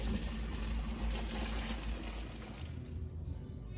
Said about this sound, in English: And let's get these noodles drained.